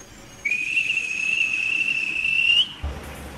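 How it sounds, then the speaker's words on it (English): A train guard's whistle sounds one steady, shrill blast of about two seconds, clear and fairly near, ending with a soft thump. "At last, the guard blew his whistle."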